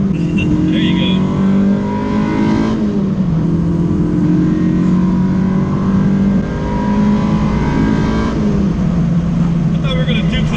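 A K20-swapped Honda Civic EG engine roars and revs hard at full throttle, pitch climbing and dropping as it shifts, loud and close throughout.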